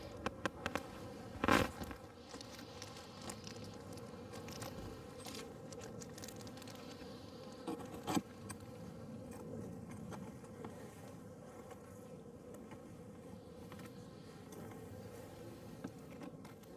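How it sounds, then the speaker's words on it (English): Honeybees drone inside a beehive during a late-winter hive check, a faint, steady, close hum with a couple of brief knocks and rustles from handling the hive. "Plenty of bees in here."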